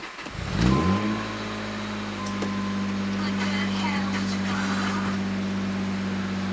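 A KLDE V6 car engine starts for the first time after an idle air control delete, cranking briefly and then settling into a steady, fairly loud idle that holds to the end, with no talk.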